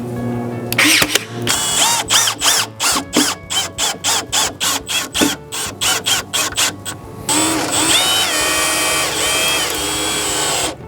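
A runner board is driven into a DIY cabinet top, a rapid series of about twenty sharp, evenly spaced impact bursts from a power tool, close and loud, followed by a sustained whirring run.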